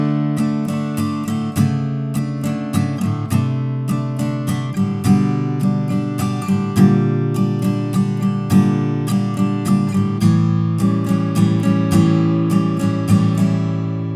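Fingerpicked acoustic guitar plays the intro of a song, a steady flowing arpeggio of plucked notes, close and clear, with no voice.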